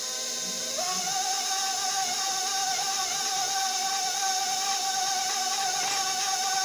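A stand mixer with a paddle mixing keto bread batter whirs steadily, with a constant mechanical hum and a slight shift in pitch as it runs, no voices.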